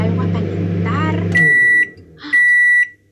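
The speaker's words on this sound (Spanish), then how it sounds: "Será el microondas." A household microwave oven signals it has finished with two loud, steady electronic beeps, each about half a second long, after someone speaks.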